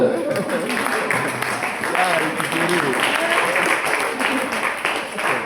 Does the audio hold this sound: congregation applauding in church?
yes